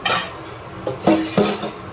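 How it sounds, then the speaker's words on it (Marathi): Household utensils are scrubbed and handled, giving several sharp metallic clinks and knocks over a soft background of rubbing, with no voices. "भांडी पण पटापट घासून जातात"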